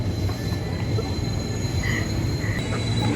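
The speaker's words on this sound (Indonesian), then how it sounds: "Kayaknya itu kereta Safi." Commuter train pulling in at Manggarai station platform, a steady loud rumble of rolling wheels with faint high metallic squeal, continuous and near, with platform ambience and possible murmured voices.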